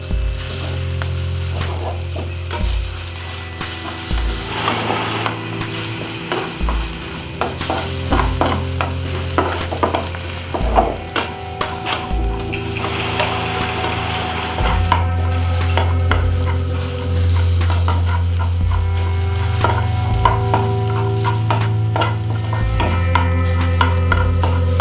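Egg and onions stirred together in a frying pan, with repeated scraping and stirring strokes over a steady sizzle. The stirring runs close and fairly loud throughout, with no talking.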